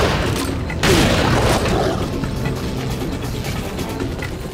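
A wide-shot gun firing in a video game gives one heavy boom near the start, followed by a dense, rumbling wash of game noise that fades slowly, with no voices.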